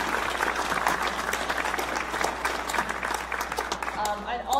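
An audience at a jazz night claps for the stage crew, a brisk, full round of applause that holds steady, with a voice surfacing near the end.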